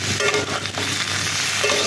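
Food sizzles in melted butter in a pan while a spoon stirs it, a steady bright frying hiss with soft scraping, close and continuous with no voices.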